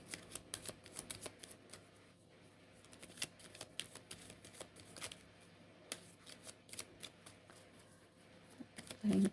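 Tarot cards are shuffled and drawn at close range, soft rapid flicks and riffles in bursts with quiet pauses, faint overall.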